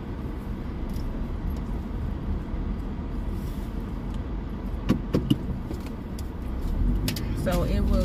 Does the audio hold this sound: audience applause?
no